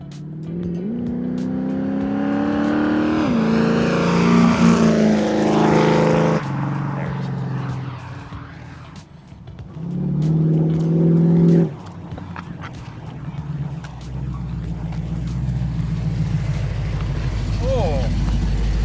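A 1972 Chevrolet Monte Carlo roars past, its V8 revving hard through rising gear changes, then accelerating again and fading, loud and close with voices talking over it.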